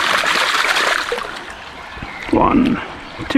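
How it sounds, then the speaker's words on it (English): Water rushing and splashing through a gold sluice box set in an Irish river while the front riffle is rinsed, a steady close gurgling wash with a louder splashing surge near the end, with faint talk mixed in. "put it under the water, add the water, just washing the front riffle"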